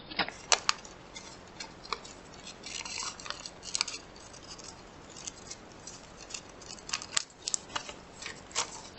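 Scissors cut out a paper butterfly suncatcher in a continuous run of crisp, close snips, irregular and fairly loud with no voices.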